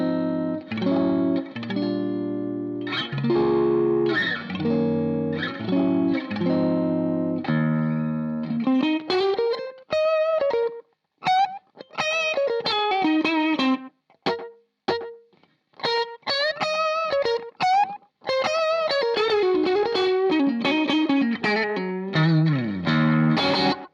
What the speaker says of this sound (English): it's a very subtle slapback that's almost like you're emulating the reflection of a wall in a small venue